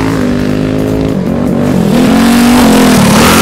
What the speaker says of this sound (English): I can hear the motor running